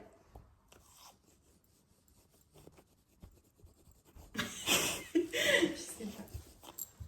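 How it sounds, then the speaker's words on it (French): Teeth are brushed in a burst of close, brisk scrubbing strokes lasting about two seconds, after a stretch of faint rustling and quiet background sounds. "Brush my teeth."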